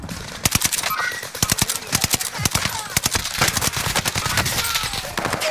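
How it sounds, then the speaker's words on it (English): Rapid automatic gunfire in Call of Duty Warzone on the Caldera map, loud bursts of sharp shots fired in quick clusters throughout, with faint game chatter mixed in. "Still getting shot from somewhere."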